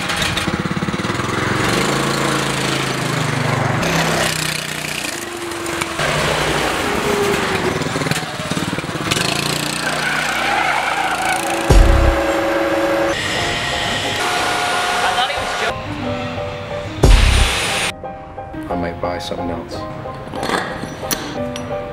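A small go-kart engine fitted with a torque converter runs loudly and continuously on a test drive in a closed area, its buzzing drone rising and falling with throttle, with a couple of sharp knocks.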